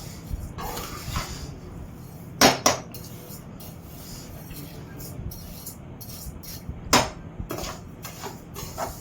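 Rice and urad dal dry roasting in a pan, stirred with a spoon that gives a few sharp metallic scrapes and clinks over a faint steady sizzle while someone talks.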